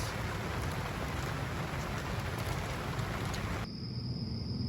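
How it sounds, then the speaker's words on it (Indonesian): Light evening drizzle patters steadily at a campsite in Taman Mata Air Cibuli, a soft, even hiss of rain with no voices, ending in a quieter tail. "saat ini hujan turun lagi ya. Cuman untungnya nggak terlalu besar, hanya gerimis."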